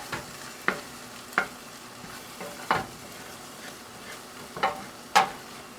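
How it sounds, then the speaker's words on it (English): Singapore noodle mixture with egg being stir-fried in a pan, with a soft steady sizzle and sharp spatula scrapes and clacks against the pan at irregular intervals, roughly six distinct strokes. "we can start mixing all the other stuff into it as well"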